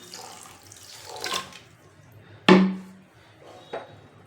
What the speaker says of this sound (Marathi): अर्धा किलो साखर आणि आपलं पाणी टाकायचं